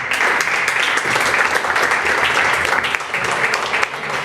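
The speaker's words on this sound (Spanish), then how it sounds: "así que también un fuerte aplauso" Loud, sustained applause from an audience at a Peronist political education gathering, dense clapping rolling on without pause before fading slightly near the end.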